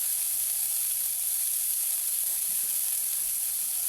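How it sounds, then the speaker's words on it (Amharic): Chopped onion frying in a pan, a steady bright hiss and sizzle that holds evenly throughout, with no voices over it. "እዚህ ጋር ሽንኩርት ካተፌ መጥበሻ ላይ አድርጌ"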